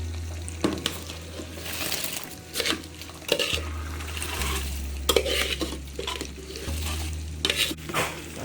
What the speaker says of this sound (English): I'm going to put in the rice now in the pot